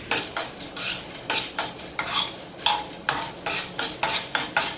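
Shrimp stirred in butter in a pan over medium heat: repeated rhythmic scraping strokes of a utensil against the pan, roughly two or three per second, over a faint sizzle, close and without talk.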